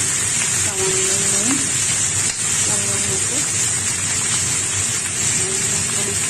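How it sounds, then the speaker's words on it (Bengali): Prawns and onion stalks frying in a pan give off a steady, continuous sizzling hiss throughout, with a voice talking over the cooking. "ভাজা ভাজা হয়ে যাচ্ছে"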